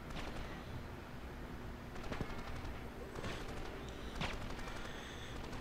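Indoor gunfire from the 2006 PlayStation 2 game 24: The Game cracks out in several short bursts over a constant background rumble, with a few sharp shots standing out.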